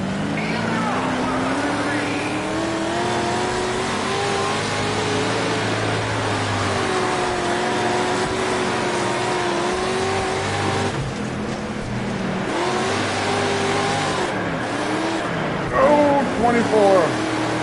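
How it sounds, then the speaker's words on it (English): Race car engines drone and rev together before the start of a race, a steady loud rumble with rising and falling pitch, mixed with a voice talking over them. "Listen to the engines as we get ready to go."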